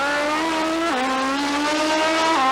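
Dual-engine Kawasaki triple drag racing motorcycle, six cylinders across two engines on fast dry gas, screams at a sustained high-pitched wail at an IDBA drag strip in Cincinnati, with brief pitch dips as it shifts and climbs again.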